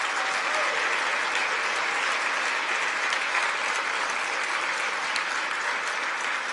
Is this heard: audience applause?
yes